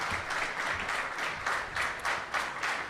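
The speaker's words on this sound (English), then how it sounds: "So keep that round of applause going. Stretch those arms, clap them together." Steady audience applause and clapping fill a live political tour event in Los Angeles, a dense continuous patter with slight swells throughout.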